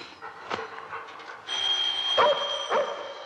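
A dog barks a few times in short, separate bursts at middle distance over a faint steady background hum, with one sharp bark early and two more near the end.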